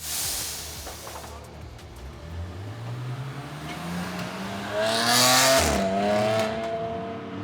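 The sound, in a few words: BMW M4 GT4 Evo race car lapping the Nürburgring in qualifying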